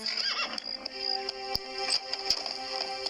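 A horse gives a loud, close, drawn-out whinny with wavering pitch, over a steady tonal background and occasional sharp clicks.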